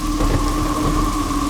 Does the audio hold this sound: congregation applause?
no